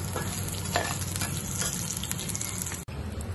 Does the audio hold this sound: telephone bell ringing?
no